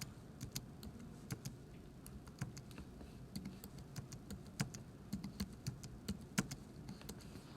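Quiet typing on a computer keyboard, a steady stream of light key clicks with a few sharper taps, close and alone with no talk.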